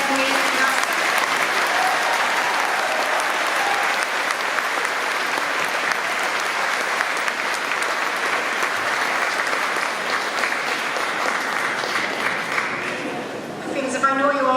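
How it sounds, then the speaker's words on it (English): At a veterinary nurse certification ceremony, the audience delivers a sustained round of applause for the nurses, steady dense clapping that fades near the end as a voice begins speaking. "So could we have a round of applause please for the veterinary nurse?"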